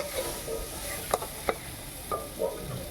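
Raw green banana ghonto fried and stirred in a pan: a soft steady sizzle with a few sharp scraping clicks of the spatula against the pan, close up, with no voices.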